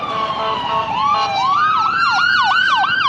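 Emergency vehicle sirens on a Montclair, California city street, a loud close siren switching into a rapid yelp pattern over another wailing tone and traffic noise.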